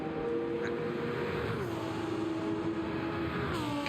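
A Porsche GR3 race car engine in Gran Turismo 7, racing at Barcelona, hums steadily at moderate volume, dropping pitch twice as it downshifts, with no talking.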